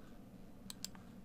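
Two or three faint, sharp computer mouse clicks come in quick succession during Windows Server VPN setup, heard close and quiet over a low background hum.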